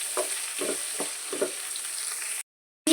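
Onions frying in a pan for a hotel-style masala dosa filling, a steady close sizzle with several soft stirring scrapes on top, then a sudden cut to silence near the end.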